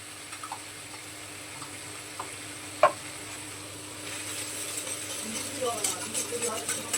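Ginger paste and spices sautéing in a pan for a vegetarian chana masala: a faint, steady sizzle with a single sharp clink of a utensil partway through and soft stirring scrapes toward the end.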